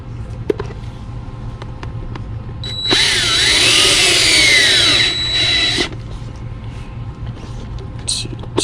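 A power drill whirs for about three seconds, driving a screw into the heel of a high-heeled boot during repair, with quiet handling noises before and after.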